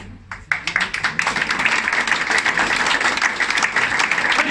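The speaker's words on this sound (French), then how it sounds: "vous pouvez l'applaudir encore" An audience at a restaurant event in Madagascar bursts into sustained applause, dense clapping starting abruptly and holding steady and loud throughout.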